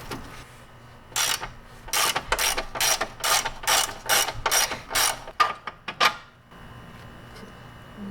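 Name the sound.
ratchet undoing control arm bolt on MK4 Golf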